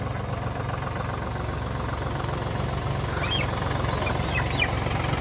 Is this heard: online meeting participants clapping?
no